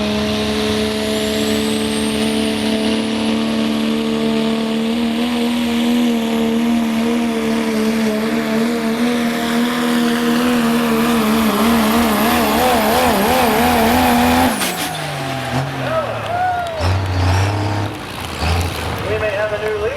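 A pulling truck's engine screams at very high RPM at a truck and tractor pull, a loud sustained roar with wavering pitch that cuts off sharply near the end, leaving crowd noise and a voice.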